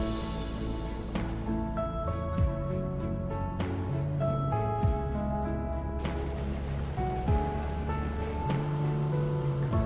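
A speed boat crossing the Banasura Dam reservoir, its engine droning steadily while water rushes and splashes against the hull in repeated bursts, with wind noise throughout.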